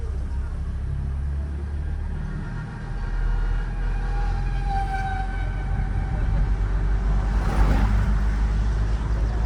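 Car engine revving up in third gear during a driving lesson, a steady continuous drone with low rumble that swells slightly partway through, while an instructor talks over it.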